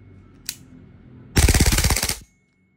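An EMG Noveske N4 gas blowback airsoft rifle fires on full auto, a single sharp shot followed by a fast, loud burst of about a dozen rounds lasting under a second, then silence.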